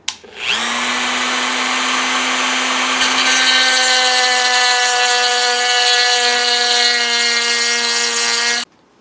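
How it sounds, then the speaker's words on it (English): A Dremel rotary tool grinds a hole through the edge of a rifle optic rail, a loud high-pitched whine that spins up quickly, holds steady for about eight seconds, then cuts off abruptly. "I have to use the Dremel to make sure that the hole comes all the way through"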